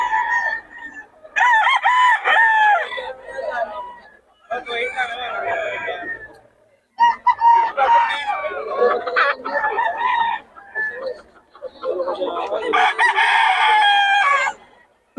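Roosters and chickens in Bocaue crow and cluck loudly and repeatedly, several birds calling close by in overlapping bursts with short pauses between.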